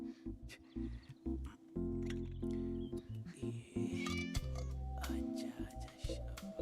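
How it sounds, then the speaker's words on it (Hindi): A cat meows a few times in a home, mixed in with people talking and background music. "ये बिल्ली?"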